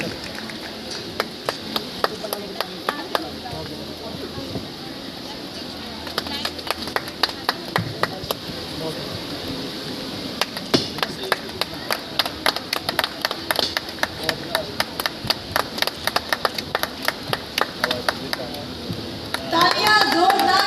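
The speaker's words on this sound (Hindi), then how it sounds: "तालियां, जोरदार तालियां बच्चों" Students clap at a women's college event in Bijnor, with scattered sharp hand claps and taps over a busy room murmur, growing into a louder burst of clapping near the end.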